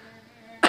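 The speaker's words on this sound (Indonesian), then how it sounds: "Aduh batuk." One short, sharp cough bursts out near the end after a quiet lead-in.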